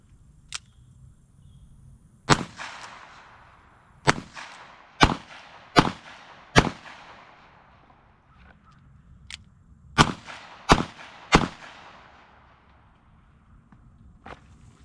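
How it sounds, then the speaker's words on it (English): Colt 1872 open top revolver clones chambered in .45 Colt fire about a dozen sharp single shots at irregular spacing, some in quick pairs and triples, each echoing briefly outdoors at moderate distance. "I'm gonna load up some more and shoot"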